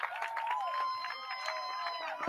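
Crowd cheering and shouting at a college baseball game after a base hit, a steady roar of many voices with whistles and calls rising over the field, fairly close and sustained throughout.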